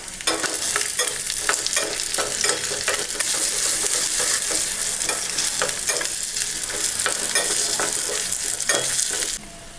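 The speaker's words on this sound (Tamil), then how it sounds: "2 வரமிளகாய் போட்டுக்கலாங்க." Dried red chillies, shallots and asafoetida sizzle loudly and steadily in hot oil for peanut chutney tempering, with close stirring clatter and no talk.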